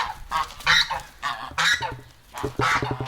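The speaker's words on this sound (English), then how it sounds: "Some geese out back." Several geese honk in loud bursts, with a steady rhythm of harsh calls close by and short pauses between them.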